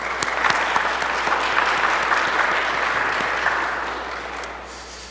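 A church congregation gives a warm round of applause for the service accompanist. The dense, steady clapping fills the room, then thins and fades toward the end.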